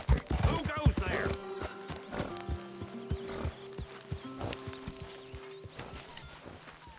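Horse in the video game Red Dead Redemption II, with irregular hoof clops on hard ground and a short whinny near the start, alongside brief game voices and ambient tones.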